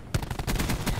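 Rapid video-game gunfire from Black Ops 4 in a 2v2 Hardpoint match: a quick volley of close, punchy shots fired in fast succession, with no pause.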